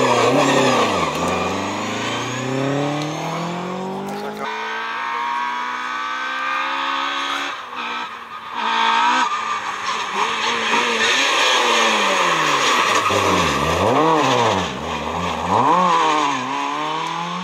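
A BMW rally car on the Epynt rally stage in 2019 revs hard through the gears, its loud engine note sweeping up and down as it passes close by, with no talk.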